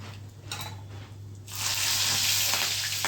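Mustard seeds, cumin and asafoetida hit hot oil for a Gujarati mung dal tempering; after a quiet stretch with a low hum, a loud, bright sizzle bursts up and continues strongly to the end.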